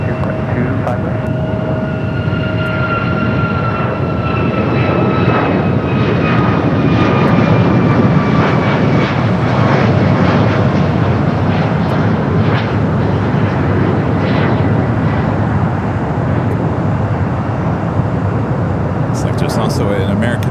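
A jet airliner roars down runway 25 right at LAX on its takeoff run, a loud continuous engine rumble with falling whining tones as it passes, steady and close for the whole span.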